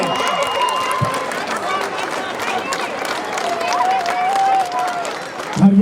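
A crowd of residents applauds and cheers to welcome the mayor at a 2013 Yerevan election campaign event in the Malatia-Sebastia district, a sustained outdoor din of clapping and crowd noise under a speaker's amplified voice.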